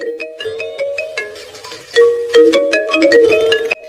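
A phone ringtone plays a bright, repeating electronic melody, loud and close, running steadily throughout with short phrases and brief pauses between them, no voices over it.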